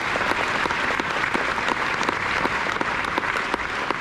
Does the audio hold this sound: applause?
yes